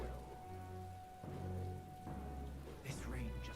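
Rain falls steadily in the video game Metaphor: ReFantazio, a soft continuous patter under a low game hum, with occasional talk in the background.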